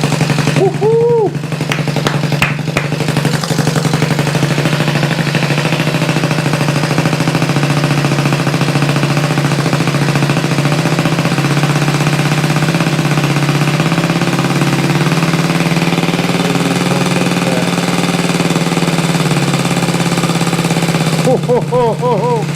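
A freshly rebuilt vintage motorcycle engine fires up after a few kicks and settles into a loud, rapid, steady idle that thumps along for about twenty seconds. Excited voices are heard briefly at the start and near the end.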